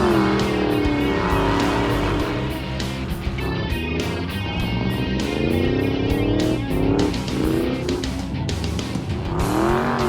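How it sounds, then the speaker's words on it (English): A car doing endless donuts on a skid pad, its engine revving hard and steadily with rising and falling pitch, tires squealing throughout, loud and close for the whole stretch. "we just went out on that skid pad and did endless donuts"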